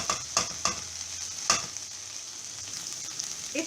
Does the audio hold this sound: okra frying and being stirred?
yes